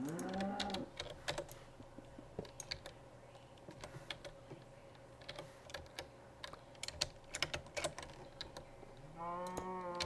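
A cow in the video game Minecraft moos twice, once at the start and once at the end, with a steady patter of computer keyboard typing clicks in between.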